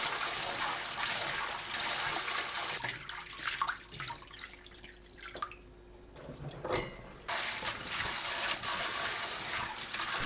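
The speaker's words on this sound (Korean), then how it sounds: "찬물에 헹굽니다." Running water splashes over blanched sweet potato stems being rinsed in cold water, a steady close gush that drops to drips and trickles midway before the full flow returns.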